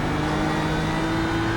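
A race car engine in the iRacing sim at the Rudskogen circuit drones steadily throughout, a continuous close, loud engine tone with a constant pitch and no talk over it.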